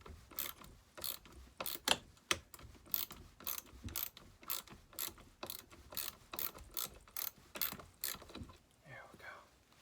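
A socket wrench clicks in rapid ratcheting bursts while loosening bolts on a Homelite, a steady series of sharp close ticks with brief pauses between strokes and a faint breathy sound near the end.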